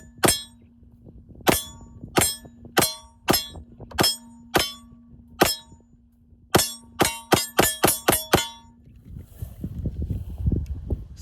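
Pistol shots fired with a large open optic, a run of sharp, loud cracks at uneven intervals, spaced apart at first and then coming in a rapid string, followed by wind rumble.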